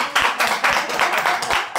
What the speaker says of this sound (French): On va applaudir pour le Seigneur.